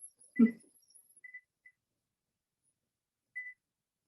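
A kitchen timer being set while cooking a grand aioli for a picnic gives a few short, faint electronic beeps spread apart in an otherwise quiet room, with a soft bump of handling near the start.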